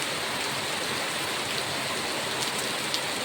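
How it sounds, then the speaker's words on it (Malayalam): Dense, steady heavy rain with strong wind hisses evenly with no pauses, a constant wash of falling water and no voices. "ഭയങ്കര മഴ ഭയങ്കര മഴയും ഭയങ്കര കാറ്റും"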